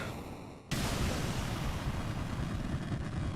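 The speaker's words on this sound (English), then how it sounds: "Eat explosion, boy." An explosion in the Final Fantasy II Pixel Remaster video game bursts in abruptly after a quieter moment, then continues as a loud, sustained, rumbling wash of noise until the end.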